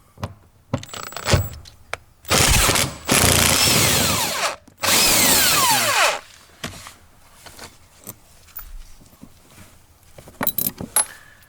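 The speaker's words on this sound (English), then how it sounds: "Then I firstly open these 10mm bolts, and there is my 10mm socket." A ratcheting socket wrench loosens 10mm bolts on a 1995–2015 Toyota Corolla during a gas pedal replacement: clicks and clinks, then two long, loud bursts of rapid ratcheting mid-way, followed by scattered metallic taps, close up with no voices.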